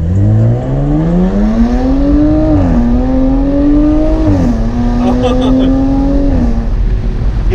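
A 2019 Jaguar F-Type in dynamic mode accelerates hard, its engine note climbing through the gears with the exhaust rising, dropping at each shift and rising again, loud and close, with a voice speaking over it.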